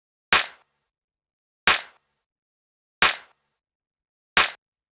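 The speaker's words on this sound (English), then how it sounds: "the next thing we have here is the clap, which is made of 4 layers, and all together it sounds like this" Layered clap sample built from four stacked claps, struck four times at an even, slow pace; each hit is sharp, bright and loud with a short decaying tail and silence between.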